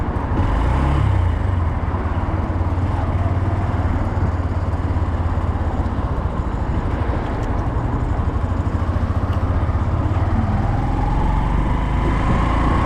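A Honda CB125F motorcycle rides through traffic, its small engine producing a steady, loud, continuous drone with wind rush, close and unbroken throughout with no talking.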